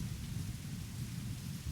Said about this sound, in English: right now it looks like I'm about to get rained on, because it's a rainy season here in Thailand